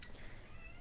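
A house cat gives one faint, brief meow close by over a low background hum.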